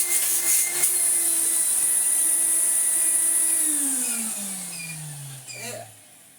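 A restored Numatic NV200 vacuum cleaner with a turbo brush runs with a steady, loud motor drone and high whistling airflow, then the motor audibly winds down in pitch near the end.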